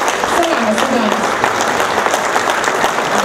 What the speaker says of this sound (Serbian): Pozdravimo ih velikim aplauzom